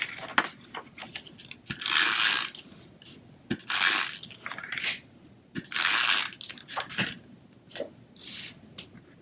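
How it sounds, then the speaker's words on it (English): A SNAIL adhesive tape runner rolls across cardstock in several short rasping strokes. The strokes come between small clicks and taps, close and fairly clear, with no voices. "I'm going to adhere this with some SNAIL adhesive"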